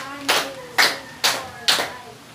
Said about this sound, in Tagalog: Class, bigyan natin yung mga sarili natin ng 5 palakpak.